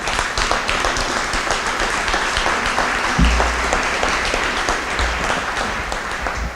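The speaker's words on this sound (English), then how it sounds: "give them a round of applause" An audience at a community celebration for the approval of a regional medical center breaks into dense, sustained applause, loud and continuous for several seconds.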